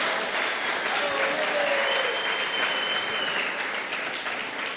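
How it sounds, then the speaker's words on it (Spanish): An audience applauds the Occupational Health Center staff with dense, steady clapping that holds at an even level for several seconds before easing slightly at the end, with no talking over it. "es importante que le demos un fuerte aplauso a los compañeros del Centro de Salud Ocupacional"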